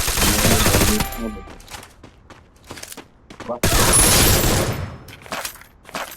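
Sniper and gunfire shots in a video game, heard as dense bursts of rapid shots in two loud volleys separated by a quieter stretch with scattered single cracks. Gameplay sound is mixed with faint background voice.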